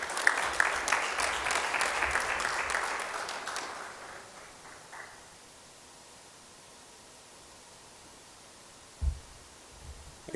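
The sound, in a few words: audience applause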